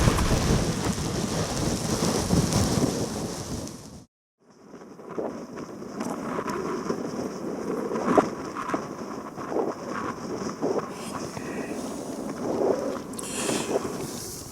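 Wind and rain batter a tent pitched side-on to the gusts at a wet, windy wild camp, a steady loud roar of rain drumming on fabric that drops out briefly, then resumes with intermittent flapping gusts.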